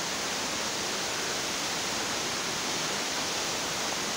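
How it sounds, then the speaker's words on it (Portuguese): A waterfall in Atalanta, Santa Catarina, Brazil, roars as a dense, steady, broadband rush of falling water with no breaks, filling the whole stretch with no voices heard. "Gente, olha a cachoeira!"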